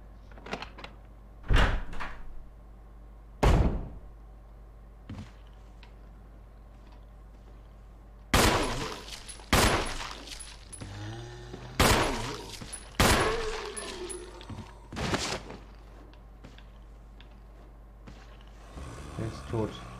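Around eight loud, sharp gunshots fire singly at zombies in Resident Evil, at irregular intervals over a low ambient hum, with quiet stretches between some shots.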